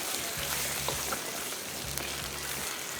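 Palak gosht, spinach and mutton, sizzles and fries on high heat, a steady crackling hiss with faint stirring and low thumps of the pot, no talk.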